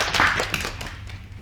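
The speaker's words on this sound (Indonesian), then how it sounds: "Oke, tepuk tangan untuk kalian semua" Students in a classroom give a short burst of hand clapping that fades within about a second.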